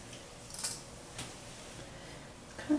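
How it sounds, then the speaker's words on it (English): Short crisp snips of scissors point cutting layers into hair during a home DIY haircut, a few quiet clicks spaced unevenly over a soft background hush. "I pretty much always cut my layers like point cutting"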